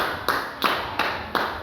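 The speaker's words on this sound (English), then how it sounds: "Give yourself a round of applause." A small class claps in four distinct, evenly spaced bursts, each a short sharp smack of hands close by, with a quiet room in between.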